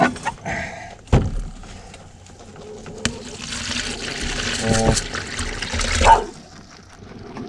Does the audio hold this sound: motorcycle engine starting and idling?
no